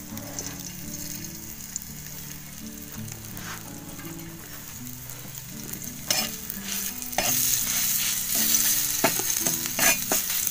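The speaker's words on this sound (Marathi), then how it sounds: "तेलामध्ये परतून घेऊया" Chutney sizzles steadily in oil in a pan while a spoon stirs and scrapes, the sizzling growing louder and brighter partway through; no voices.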